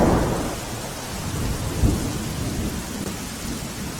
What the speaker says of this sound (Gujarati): વીજળીના કડાકા સાથે વરસાદની શરૂઆત થઈ છે